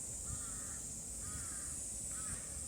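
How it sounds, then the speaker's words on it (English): Crows caw three times at a garden in Osaka, Japan: faint, evenly spaced calls from somewhere above, set over a steady high insect-like hiss and low background rumble. "I can hear some crows up there."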